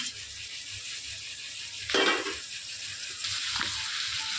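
Three medium tomatoes drop into a pan of frying green chillies and onion, a sudden burst of loud sizzling that settles into steady frying with light stirring clinks.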